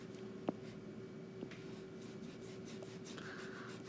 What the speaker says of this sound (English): Let's go ahead and erase.